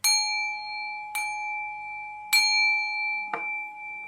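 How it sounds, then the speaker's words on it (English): A small bell is dinged four times at roughly one-second intervals, each strike a clear ringing tone that decays slowly. The last strike is a duller, shorter tap. No talking. "dinging the bell."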